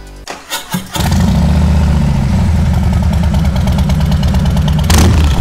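A Harley-Davidson Fat Boy with a Milwaukee-Eight 114 engine and custom exhaust cranks with a few quick bursts, then fires up into a loud, steady, rumbling idle and gives a brief throttle blip near the end.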